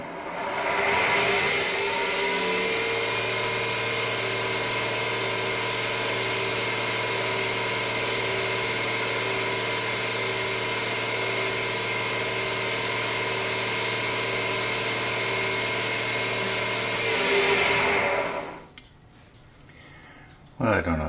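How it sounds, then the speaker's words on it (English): A wood lathe runs at high RPM buffing a wood pen blank stabilized with cactus juice, giving a steady loud motor whine with a constant hum for most of the clip, then it winds down and stops near the end. "now we'll just crank the RPM and buff that a bit."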